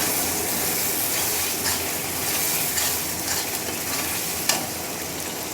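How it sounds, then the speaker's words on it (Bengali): Masala paste for doi katla sizzles and fries in oil while being stirred in a pan, a steady close crackle with soft scraping and no talk. "আবারও একটু নেড়ে চেড়ে মিশিয়ে নেব"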